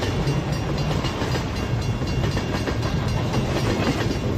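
A train rolls past close by on the tracks, a dense continuous rumble and clatter of wheels filling the whole stretch at steady loudness with no pauses.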